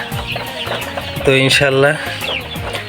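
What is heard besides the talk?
layer chickens clucking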